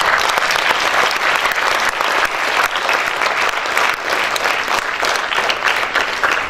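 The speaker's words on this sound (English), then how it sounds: "they deserve another round of applause with the principal" Loud, sustained applause from a school awards day audience honoring teachers and their principal, thick continuous clapping with no pause and no voices over it.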